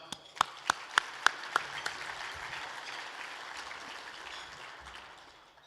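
Applause greeting Father John at a luncheon, a few sharp loud claps up front, then a sustained roomful of clapping that slowly thins out.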